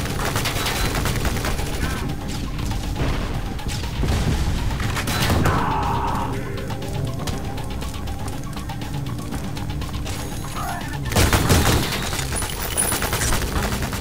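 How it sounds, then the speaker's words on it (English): Gunfire in the shooter game Ion Fury, dense bursts of shots and booms running throughout at steady loudness, with a sharper cluster near the end. "What is shooting? Where is that coming from?"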